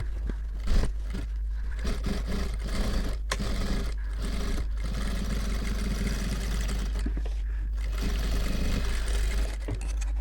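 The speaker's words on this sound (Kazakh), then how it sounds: "Мына жерін екі рет тігіп жүреміз." A sewing machine runs steadily while stitching a Kazakh saukele headdress, a close, continuous mechanical whir with a few brief pauses and no talk.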